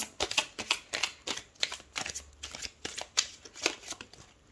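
Oracle cards shuffled and drawn for a full moon reading, close and crisp, with rapid uneven riffling flicks and taps continuing throughout.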